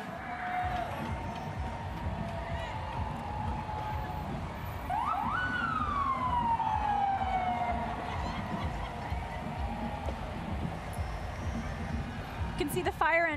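New York Fire Department fire engines rolling down 5th Avenue in a Pride parade sound their sirens, a wailing tone that rises and sweeps down over crowd noise while people talk.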